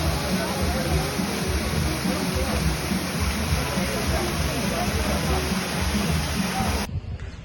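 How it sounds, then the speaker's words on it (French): A waterfall roars as a steady, dense rush of falling water, loud and close, cutting off abruptly near the end; people talk beneath the roar. "on est arrivé à la première cascade"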